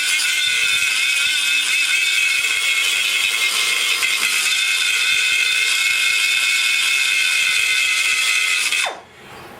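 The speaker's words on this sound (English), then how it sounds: "I do use an aluminum grinder on it." A grinder with an aluminum-cutting wheel works a Chevy 334 stroker aluminum intake manifold, giving a loud, steady high-pitched whine with gritty rattle that winds down sharply near the end.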